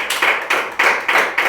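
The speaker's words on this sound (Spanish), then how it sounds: "Démosle fuertes palmas al Señor" A church congregation claps hands together in a fast, steady rhythm, several bursts of loud, close applause-like claps running back to back without speech.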